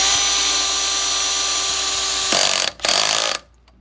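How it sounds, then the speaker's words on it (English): A power drill whirs steadily, then the tone shifts to a rougher grinding as the clutch slips, briefly cutting out before stopping. "Because that was the clutch slipping."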